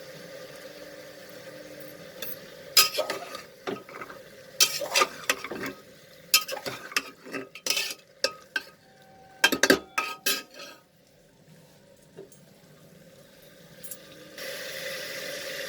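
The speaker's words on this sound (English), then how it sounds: "We'll add the tomatoes also. In goes the green peas." Tomatoes and green peas are stirred into frying chicken dal, with bursts of spoon scraping and clinking against the pot over a faint sizzle, then a quieter stretch of steady frying.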